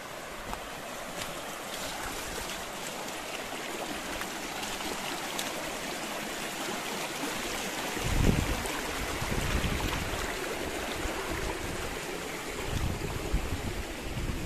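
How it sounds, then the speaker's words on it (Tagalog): River water rushing steadily as someone wades across a river in a rural tropical setting, a continuous broadband wash with a brief louder splash midway and no talking. "Tatawid tayo ng ilog, mga idol."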